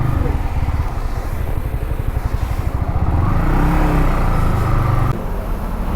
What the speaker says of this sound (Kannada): ಹೊಸ ಬೈಕ್ ನೋಡಿ ಹೊಸ ಎಮ್ ಟಿ